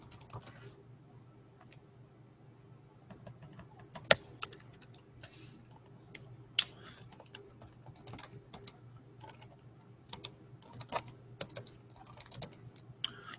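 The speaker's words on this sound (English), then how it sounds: "we've been typing a lot" Quiet keyboard typing clicks away in irregular bursts over a low steady hum, close by.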